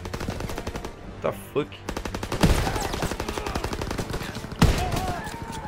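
Gunfire in Call of Duty WWII, rapid automatic bursts rattling almost nonstop with a couple of sharper heavy shots, loud and close, while a player exclaims over the shooting.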